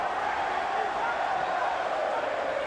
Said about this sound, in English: this crowd is so loud, I don't think he can hear him